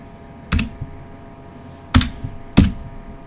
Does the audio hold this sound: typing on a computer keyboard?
yes